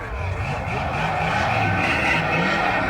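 A green 1972 Plymouth Duster with a 340 V8 drives by, its engine a loud rumbling roar that rises and shifts pitch, close by, with voices talking over it.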